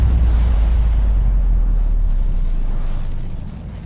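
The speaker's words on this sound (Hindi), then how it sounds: "3:45 पर विस्फोट हुआ।" Underground nuclear bomb test explosion at an Indian test site: a loud, sustained low rumbling roar that holds steady for about three seconds, then slowly fades, with no voices.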